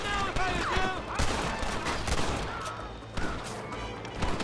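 Gunfire rattles in the Red Dead Redemption video game: repeated sharp shots and bursts crowd together amid chaotic battle noise, with faint voices mixed in.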